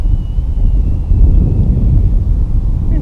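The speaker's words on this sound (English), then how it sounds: "This wind just can't figure out what it wants to do." Wind gusting across a creek during a kayak fishing trip, heard as a steady, loud low rumble of buffeting against the microphone with no voices.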